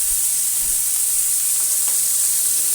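Scallops searing in a hot pan just after being flipped, a steady, loud, close hissing sizzle holding constant throughout with no voices.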